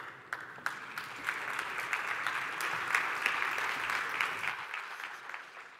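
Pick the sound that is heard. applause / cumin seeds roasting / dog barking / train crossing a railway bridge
applause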